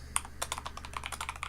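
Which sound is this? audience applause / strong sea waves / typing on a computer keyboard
typing on a computer keyboard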